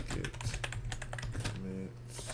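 Computer keyboard typing git commands, quick irregular key clicks at close range, quiet, with a short stretch of hum and faint room noise between bursts.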